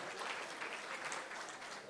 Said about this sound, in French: J'aimerais ça qu'on lui donne encore une bonne main d'applaudissement